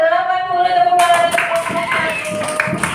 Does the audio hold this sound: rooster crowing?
no